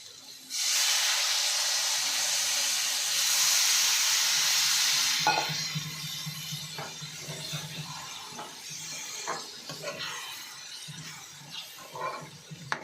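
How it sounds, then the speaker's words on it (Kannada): Water poured into a hot pan of drumstick gravy bursts into a loud steaming hiss and sizzle for several seconds. It then gives way to quieter bubbling, stirring scrapes and light clinks of utensils. "ಈಗ ನಾನು ಇದಕ್ಕೆ ಒಂದು ಸ್ವಲ್ಪನೇ ನೀರು ಹಾಕ್ಕೊತಾ ಇದ್ದೀನಿ"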